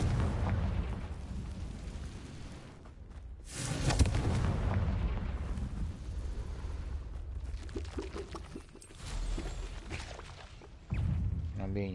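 Confringo explosive spell cast in Hogwarts Legacy, giving several deep booming blasts and bursts, one loud near explosion followed by rumbling and further pops.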